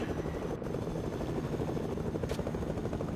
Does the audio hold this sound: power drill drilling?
no